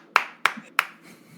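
Three sharp, isolated hand claps spaced about a third of a second apart, close and crisp, followed by a faint lingering room tone with no other voices.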